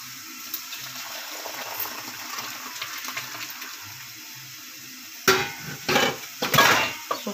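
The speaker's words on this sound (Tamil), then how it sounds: "இப்போ பாத்திரத்துக்கு வேறு பாத்திரத்துக்கு மாற்றிடலாம் ரசம்." Rasam, a South Indian tamarind soup, being transferred from one cooking pot into another in a home kitchen: a quiet stretch of low clatter, then several splashy pours and metallic clinks close by near the end.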